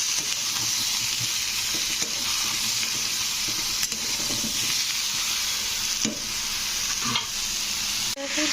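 Potatoes and ridge gourd sizzle steadily in hot oil after salt goes in, with the scrape and clatter of stirring breaking through a loud, continuous frying hiss throughout.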